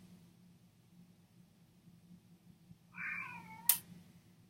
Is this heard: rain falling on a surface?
no